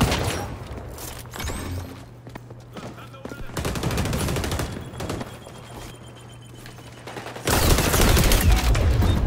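Bursts of rapid gunfire crackle through a noisy XDefiant game mix, with a sustained loud stretch of shooting near the end.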